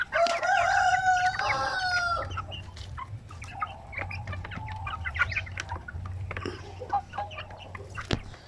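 Chickens, now grown out of the chick stage, cluck steadily while a rooster crows loudly near the start, with scattered nearby bird calls and a low farmyard hum underneath.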